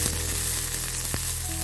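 Bay leaf, ginger and a green chili sizzle steadily in hot oil in a pan, a continuous close frying hiss with a couple of brief clicks of stirring.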